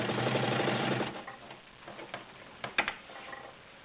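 A vintage Kenmore model 1301 heavy duty sewing machine with a size 16 needle stitches through layered cotton blend fabric in a fast, close mechanical burst, then slows to scattered ticks and clicks.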